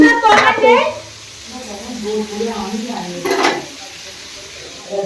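Potatoes fry in a pan with a steady sizzle and bursts of stirring scrapes. Voices talk over the cooking noise.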